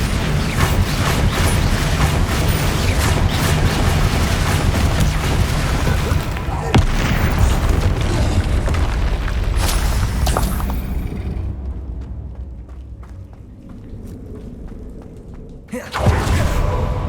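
The Bombarda spell goes off in Hogwarts Legacy with a heavy booming blast inside a dense, loud wash of game sound, which then thins and fades before a final short burst.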